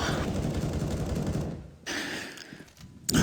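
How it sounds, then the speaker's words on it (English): Rapid rifle and pistol fire from a CS:GO esports match between ENCE and AVANGAR rattles loudly and continuously, then drops to a quieter lull before a fresh burst at the end. "They're going to play maximum range and abuse the range of these rifles versus these pistols."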